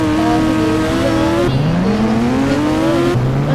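A scooter ridden in the mobile video game Indian Bike Driving, its engine a steady whining drone that rises in pitch as it speeds up, drops with a shift and climbs again, loud and constant with no talk.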